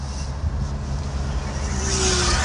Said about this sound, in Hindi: आवाजें आपको आ रही होंगी बाहर से ट्रैफिक की।